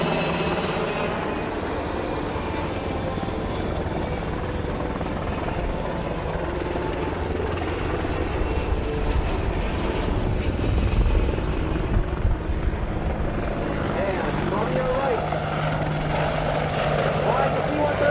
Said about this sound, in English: the Rhode Island Army National Guard flying the UH-60, the Pennsylvania Army National Guard flying the AH-64 Apache